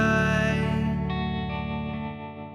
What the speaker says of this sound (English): It's a plate, and it's a very familiar effect on the vocals.